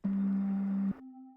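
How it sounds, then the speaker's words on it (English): A sustained synth pad note made from saw and sine waves, buzzy and bright for about a second, then shifting to a softer, purer held tone. "I have pads that are done with Vital, which is a free synth."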